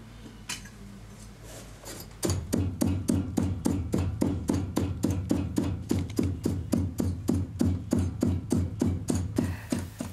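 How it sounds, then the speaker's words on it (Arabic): A carpet loom in a modest Algerian rug-weaving workshop in Oued Souf beats with steady, evenly spaced clacks, loud and close, starting after a quiet low hum and repeating for several seconds with no talk. "لا يعلو صوت إلا صوت المنسج في هذه الورشة المتواضعة"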